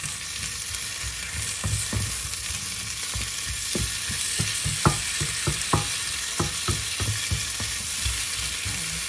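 Tomatoes frying in a pan without oil for binagoongang kalabasa with green beans, a continuous sizzle broken by a series of sharp spatula taps and stirring clacks, close and unaccompanied by speech.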